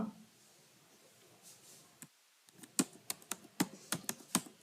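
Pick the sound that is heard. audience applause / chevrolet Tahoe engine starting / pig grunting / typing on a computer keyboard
typing on a computer keyboard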